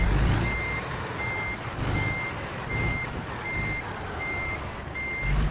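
Truck reversing while parking in American Truck Simulator: a regular series of seven evenly spaced electronic reversing beeps over a low engine rumble, with a hiss of air brakes at the start and end.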